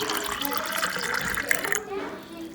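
Water runs steadily into a baby bottle while formula milk is prepared at home. The pouring hiss is close and continuous, then thins near the end, with a voice faintly underneath.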